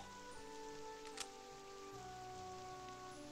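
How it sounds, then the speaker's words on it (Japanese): Steady soft rain falls in The Witch's House MV, a continuous faint patter with a light tonal game music bed running underneath and one brief click near the middle. "雨も降ってきたし"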